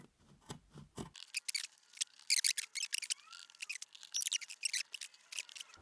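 Scissors snip soundproofing material in an X shape, close and crisp, with a quick series of sharp cutting strokes and faint rustles and squeaks of the material between cuts.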